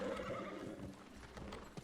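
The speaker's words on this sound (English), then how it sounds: "There's my horsey." A horse mount in the video game New World clip-clopping in a quick, even hoof rhythm, close and fairly quiet, with faint whinny-like tones and no talk over it.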